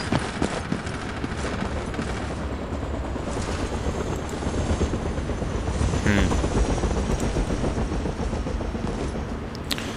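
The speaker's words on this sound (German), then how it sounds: "Der Heli macht mir auch Angst." In the Battlefield 2 video game on the Daging Oilfields map, a helicopter's continuous rotor and engine drone fills the scene, with bursts of machine-gun fire crackling over it at close range.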